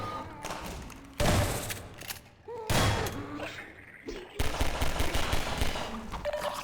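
A shotgun in Half-Life 2 Episode Two fires double-shell blasts, three heavy booming shots spaced over several seconds, each with a ringing tail amid game ambience.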